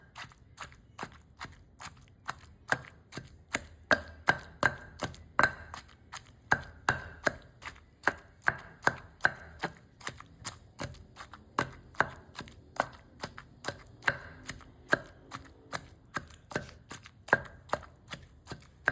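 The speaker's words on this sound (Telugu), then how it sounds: "బీరకాయ ముక్కలన్నీ మెత్తగా నూరుకోవాలా" Ridge gourd pieces are pounded and ground in a stone mortar, a steady run of sharp, evenly spaced knocks close by, repeating roughly twice a second without pause.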